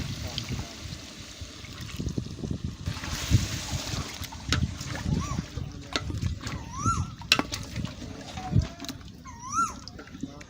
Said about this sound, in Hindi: दो चम्मच सिरका डालेंगे या नींबू का रस, और ऐड करेंगे 1 किलो दही